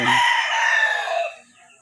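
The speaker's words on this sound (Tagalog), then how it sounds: "may mga manok pa dito" A rooster crows loudly and close by on a spacious plot of land, one long drawn-out call that fades out near the end, with other chickens around.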